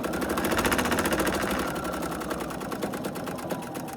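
A sewing machine runs steadily while stitching a fabric tie thread catcher, its rapid, even needle clatter continuous and close throughout with no pauses.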